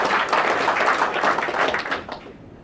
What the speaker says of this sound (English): I think that's a point for applause as well